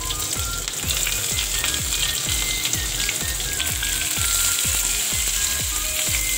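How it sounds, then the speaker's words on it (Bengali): Chopped onions frying in hot oil with whole spices, a loud steady sizzle and crackle with rhythmic scraping strokes of stirring, close and continuous with no talking. "এবার আমি পেঁয়াজগুলোকে ভালো করে ভেজে নেব।"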